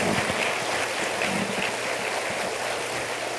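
A congregation at a church sermon claps continuously, a thick, even wash of applause with a faint low hum underneath and no pause.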